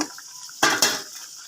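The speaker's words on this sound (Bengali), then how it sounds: "মাছগুলা দিয়ে এখন একটু ভালো করে লাগাচাড়া করে নেব" Tengra fish and vegetables stirred in a pan, two quick scraping clinks of a spoon against metal, close and brief after a quiet start.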